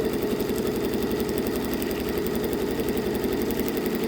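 A sewing machine stitching an upcycled scrappy heart quilt runs in a steady, fast, even whirr that stays close and constant throughout, with no pauses.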